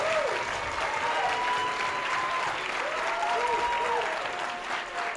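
Audience applause at a conference fills the room steadily and loudly for about five seconds, with brief whistles or cheers rising above the clapping and no speech over it.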